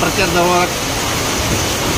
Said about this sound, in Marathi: या ठिकाणी खूप पाऊस चालू झाला